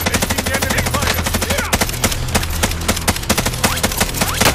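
Dense, rapid automatic gunfire from the Call of Duty Warzone video game, loud bursts crackling continuously for several seconds with sharp repeated shots, talk faintly mixed beneath.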